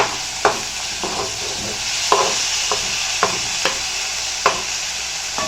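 Ivy gourd (kovakkai) sautéing in a pan: a soft steady sizzle with about eight sharp scrapes and taps of a spoon stirring at irregular intervals.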